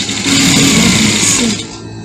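Sewing machine back stitching fabric for a kids' peplum dress, a loud, close mechanical whir that runs steadily for about a second and a half before winding down.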